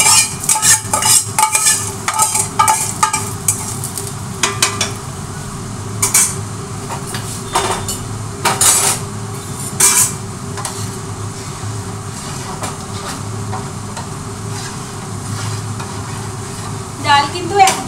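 A spice tempering goes into cooked dal with sizzling and stirring, and metal spoon clatter and scraping against the pot come in irregular close bursts over a low frying hiss.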